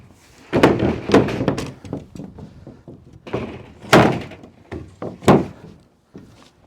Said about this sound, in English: I will throw this board over here